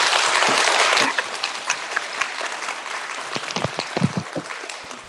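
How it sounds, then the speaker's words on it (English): An assembly audience at a school fitness center opening claps loudly at first, then the applause thins after a second into scattered individual claps trailing off. "I want you to clap for them"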